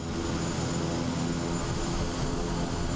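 Steady drone of a Kodiak 100 turboprop engine in Microsoft Flight Simulator 2024 as throttle is added for a slow taxi turn, a constant even whine and rumble with no talking.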